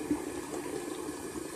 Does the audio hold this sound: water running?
yes